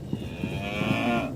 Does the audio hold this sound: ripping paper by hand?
no